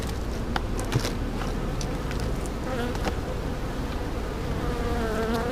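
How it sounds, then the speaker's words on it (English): Honeybees swarm over a sugar board in a hive during warm winter weather in eastern North Carolina, a dense, continuous close buzz with individual bees droning in and out. "these bees are just going to town on that sugar board"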